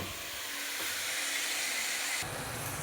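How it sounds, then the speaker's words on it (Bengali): Pea greens (matar shak) being stirred in a pan on a home kitchen stove, giving a steady, fairly quiet hiss of sizzling with a brief shift in texture partway through as the greens are turned. "এইবার মটর শাকটাকে আমি ভালো করে নেড়ে নিচ্ছি।"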